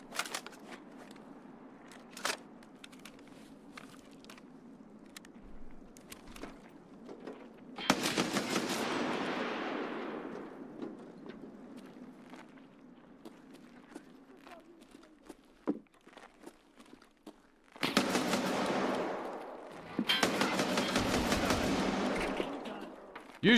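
AA-12 automatic shotgun firing in Escape From Tarkov, with long roaring bursts of rapid fire that come and go among scattered footsteps and clatter, over a continuous low game hum.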